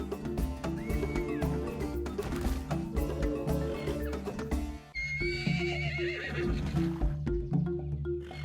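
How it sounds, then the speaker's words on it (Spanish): Equus horse in the ARK: Survival Evolved game, loud repeated neighing and whinnying over hoof clip-clops and a steady game music bed. "Este caballo es una de las criaturas terrestres más rápidas de la isla"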